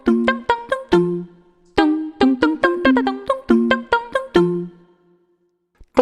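A cappella voices imitate iPhone sound effects, singing a quick sequence of crisp, bell-like plucked notes in ringtone and alert patterns, with short pauses between phrases and a near, clean sound.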